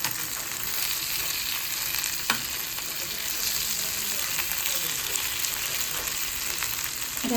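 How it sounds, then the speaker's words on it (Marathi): Halwa fish, a pomfret-like fish, frying until crispy in a pan, a dense, even sizzle and crackle holding steady throughout with an occasional faint scrape. "तुम्ही बघताय की ते छानपैकी किती छान क्रिस्पी फ्राय होत आहे।"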